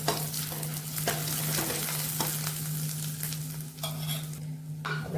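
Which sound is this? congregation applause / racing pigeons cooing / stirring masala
stirring masala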